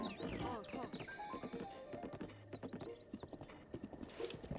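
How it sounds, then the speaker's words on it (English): A horse in The Legend of Zelda: Breath of the Wild clip-clops with rapid hoofbeats and a whinny, over game music and faint chirps, with a voice talking along. "Just pet horse for like 5 minutes."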